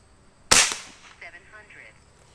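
A single sharp gunshot at an outdoor target range with a 30-yard target, loud and close, followed by a decaying echo and faint voices afterward.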